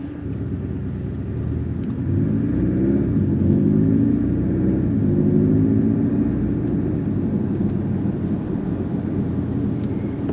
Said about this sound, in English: It's wild how much sport mode in this changes the car from normal.